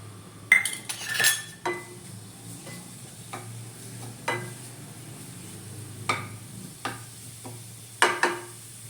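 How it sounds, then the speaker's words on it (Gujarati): Cabbage is stir-fried in hot oil for a Chinese bhel made without garlic or onion. A soft sizzle runs underneath while a spoon scrapes and clinks against the pan in irregular strokes, close by. "આપણું તેલ આવી ગયું છે તો આપણે કોબી એડ કરી દઈશું"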